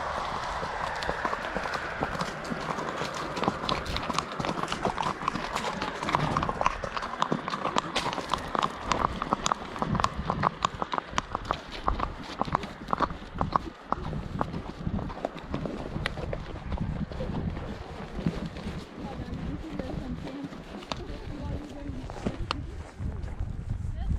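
A fast-moving mare's hooves drum in a quick, steady rhythm throughout, loud and close, with people talking over the pounding.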